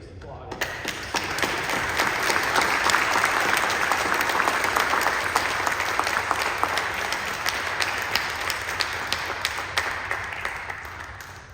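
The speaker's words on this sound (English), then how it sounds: "if everyone can join with me in just applauding." Warm audience applause at an Eagle Scout Court of Honor ceremony, swelling after a faint start and holding steady for about ten seconds with individual claps audible in the crowd, tapering off at the end.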